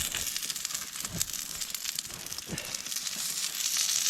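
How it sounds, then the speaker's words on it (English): A small frying pan sizzles on a paraffin-heated hot tent stove, with soft crackling and a few sharp pops, fairly quiet and close with no talking. "that wee frying pan seems to be doing alright, and it's making all the right noises"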